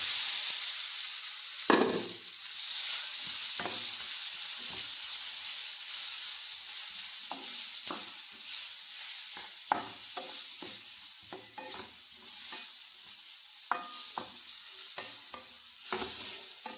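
Chopped rose apple frying in a pan with fenugreek powder and Kashmiri chilli powder for pickle, a steady close sizzle over low heat with repeated stirring clatters and scrapes throughout.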